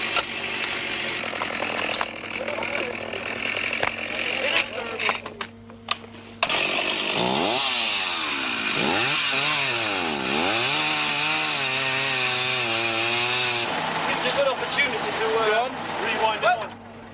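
Loud, nearby chainsaws clearing a jungle track in the Sulawesi mountains buzz and rev in repeated surges, with rougher engine noise before and after the sharpest bursts.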